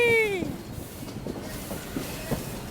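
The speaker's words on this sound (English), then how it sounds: "We're on a steam train. We're being pulled by a steam train." A steam train pulls passenger carriages along the rails, heard from on board: a falling whistle-like squeal opens, then steady rumbling carriage noise with faint rhythmic clicks of wheels over rail joints.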